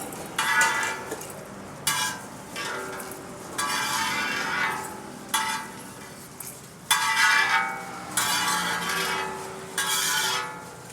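Roasted chana chaat masala scraped and stirred out of a hot pan with the gas switched off, a series of loud, close scratching and rubbing bursts separated by brief pauses, with no talking.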